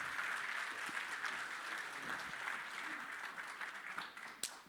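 Audience applause follows a talk on applications of artificial intelligence in industry, a steady wash of many hands clapping that fades slightly near the end, with no voices over it.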